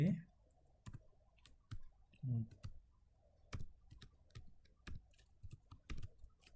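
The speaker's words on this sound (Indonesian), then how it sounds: "saya hanya mengetikkan nama saja" Keys clatter in short irregular bursts on a computer keyboard while a PHP test file is typed in a code editor, close and fairly quiet, with soft clicks spaced through the stretch and no talk over them.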